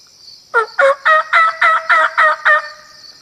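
A wild turkey gobbles loudly and close, a rapid run of about eight rattling notes in one burst, with quiet background before and after.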